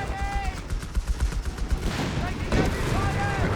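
Battle noise in the strategy game Company of Heroes 3 as a Tiger tank's 88mm gun fires, heavy booms and repeated gunfire layered into a dense, loud din, with a voice talking over the action.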